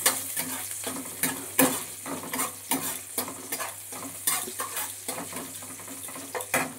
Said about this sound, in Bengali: এবার পেঁয়াজটাকে একটু ভালো করে ভেজে নেব।